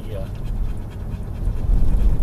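A diabetic dog pants rapidly and heavily, winded and overheated, close by, with a voice and low background rumble mixed in.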